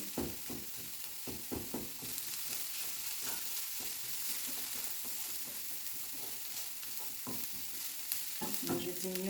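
Onions sweating in a pan over lowered heat with dried garlic powder added, giving a soft steady sizzle with scattered stirring scrapes and clicks throughout, close and moderately quiet.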